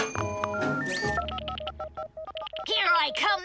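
Cartoon telephone dialing tones: a quick run of short, evenly spaced electronic beeps of varying pitch, preceded by a brief rising musical sweep and followed by a warbling, wobbly tone.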